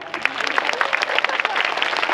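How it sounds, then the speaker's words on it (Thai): Applause from an audience at a Thai political rally in Khon Kaen crackles through the whole moment, dense clapping beneath and around a loud voice. "ขอเสียงปรบมือ"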